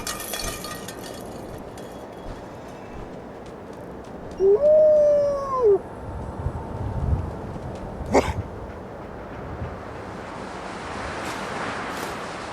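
Dogmeat, the dog in Fallout 4, gives a single short, rising-and-falling whimper or howl over a low wash of ambient background noise. A brief sharp knock follows soon after.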